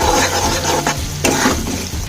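Ground cumin is stirred and lightly fried in a pan, giving a steady close sizzle with scraping stirs throughout and a low background hum.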